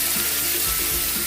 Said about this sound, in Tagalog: Lagyan natin ng konting water